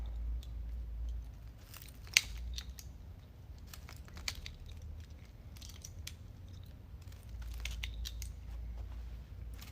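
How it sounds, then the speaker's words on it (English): Scissors or snips cut protruding sticks from a grapevine wreath, giving a few faint, dry snips and crunchy cracks against a low steady hum, with no talk. "this grapevine does have some sticks that are sticking way out. So we are gonna cut that off"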